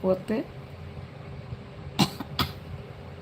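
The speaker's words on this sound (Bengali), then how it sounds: "করতে গলা কাশি হচ্ছে" Two short bursts of coughing, one at the start and another pair a couple of seconds later, close and fairly sharp against quiet room noise.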